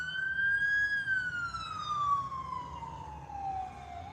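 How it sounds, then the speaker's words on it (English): A fire truck siren wails from a distance, its tone sliding slowly downward as it passes, heard alone over faint background traffic rumble. "Even though that was a fire truck,"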